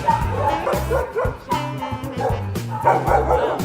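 Several bigger dogs bark and yip in quick repeated bursts nearby, mixed with whimpers. The barking is loud and close, with a voice faintly heard alongside.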